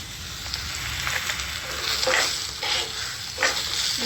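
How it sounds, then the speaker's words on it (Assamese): Paneer fries in a pan with a constant soft sizzle, broken by several scraping stirs and clinks of a utensil, close up. "ইয়াত মই প্ৰথমতে পনীৰখিনি ভাজি লৈছোঁ"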